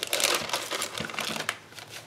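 A sheet of printed craft pattern paper crinkles and rustles, handled close up in a burst of crisp, dense crackling that fades over about two seconds.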